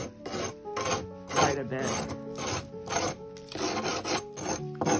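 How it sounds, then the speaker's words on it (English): Repeated gritty scraping strokes of a sanding stone smoothing freshly set, crumbly cement, steady back-and-forth rhythm close by, with a few brief spoken words. "I'm just taking a sanding stone, and I'm going to go over it and smooth it out"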